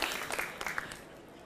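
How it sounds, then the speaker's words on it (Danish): An audience applauding at an entrepreneurship event in Copenhagen, a dense, steady wash of many hands clapping close and fairly loud through the whole short stretch. "I må gerne klappe noget mere,"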